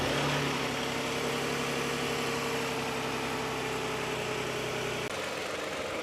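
A 2015 Toyota Sienna AWD with the 3.5 engine idles steadily and close up, a smooth even drone that suddenly drops off near the end as it is shut off.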